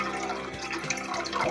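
Vinegar and water mixture poured slowly into hot milk for homemade cheese, a steady close trickling and splashing of liquid lasting the whole moment, with no talk.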